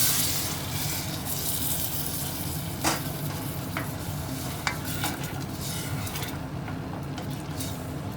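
Fish stock poured into rice sizzling in a hot pan for a creamy tuna rice dish, with a steady close frying hiss and occasional scraping stirs of a utensil against the pan.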